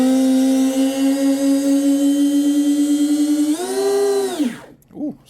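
Twin brushless RC boat motors on a 6S battery, driving a Zonda drive line on the bench, spin up into a loud steady high whine that rises in pitch, then spools down and stops with one brief final blip.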